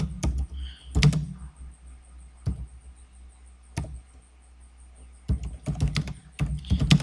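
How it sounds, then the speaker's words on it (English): Bursts of keyboard typing, quick clusters of key clicks separated by pauses, close and fairly quiet, with no one speaking. "I'm typing this way, I'm typing lazy dog"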